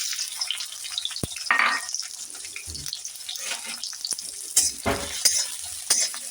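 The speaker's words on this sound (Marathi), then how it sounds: "छान असा कांदा परतून घ्यायचा जास्तही परतून घ्यायचा नाही आपल्याला" Onion sautéing in a pan for a veggie pocket filling, soft steady sizzle with scattered stirring scrapes and a few louder clinks, close and alone without talk.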